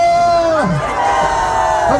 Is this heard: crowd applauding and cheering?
yes